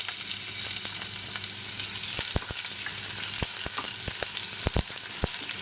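Onion crackles and sizzles in hot oil in a home kitchen pan, a steady close frying hiss with scattered sharp pops and spits, no voices.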